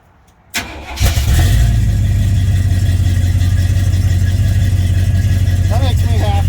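A 1976 Chevy C10 Suburban with a 454 V8 and Flowmaster exhaust cranks, fires and settles into a loud, steady rumbling idle close by, with no one talking over it.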